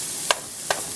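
Onions sizzle in a pan with sausage and peppers, a steady close frying hiss broken by two sharp stirring scrapes.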